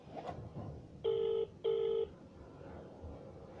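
A phone line rings while calling a number, two steady purring rings with a short gap, faint under a noisy room background with no talk.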